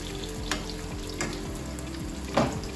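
Tandoori-style lamb chops coated in flour frying in a hot pan, a steady close sizzle with a few scraping and pressing knocks as the chops are pushed down.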